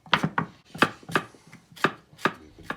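A knife chops coriander on a warped wooden chopping board in quick, uneven thuds, about eight sharp knocks close by with no talking.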